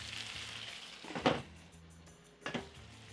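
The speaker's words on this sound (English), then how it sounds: "I'm going to lower the heat, cover it, and cook for about 5 minutes." Masala pork ribs fry with a quiet, steady sizzle in a pot with tomato and spices. Two brief louder stirring scrapes break through the sizzle.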